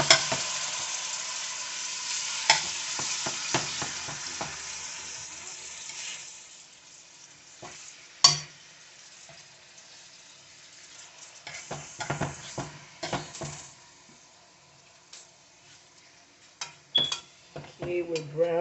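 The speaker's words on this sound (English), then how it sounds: "We're gonna start browning." Bean steak browning in a pan for a Spanish home-cooking dish, soft sizzling punctuated by stirring and clinks of a utensil against cookware, intermittent and close, with no talk.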